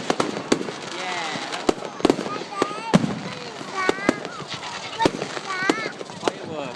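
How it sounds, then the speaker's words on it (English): Fireworks crack and bang repeatedly at a bonfire night display in a park in Ivybridge, Plymouth, sharp close bursts at irregular intervals amid crackling and whistling, with a crowd and people chatting underneath. "Fireworks."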